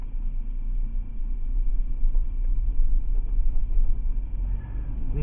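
Toyota 4Runner driving on the road, a steady low engine and road rumble that stays constant and close throughout.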